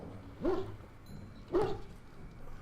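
Two short barks from a dog in the video game Dragon Age: Origins, evenly spaced about a second apart, fairly close and alone over quiet background.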